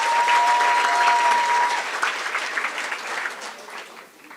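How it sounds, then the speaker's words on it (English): A graduation ceremony audience applauds loudly, a dense wash of clapping that holds strong and then thins and tapers off over a few seconds, with no one speaking. "Can we give Dr. Oosthuizen another round of applause"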